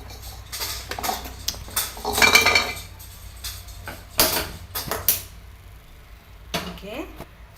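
A pan holding sugar and ground cardamom set down on a stove for gulab jamun syrup, heard as a few close metallic clatters and clinks of cookware with soft kitchen handling sounds between them.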